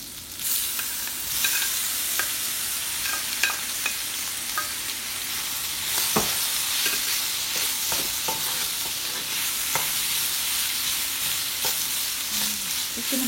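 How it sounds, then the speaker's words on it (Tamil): Boiled chicken being stirred into spices frying in a pan for chilli chicken, with steady sizzling throughout and repeated scraping and clinking of the spoon against the pan. "அடுத்ததாக பாயில் பண்ண சிக்கன் ஆட் பண்ண போகிறேன்."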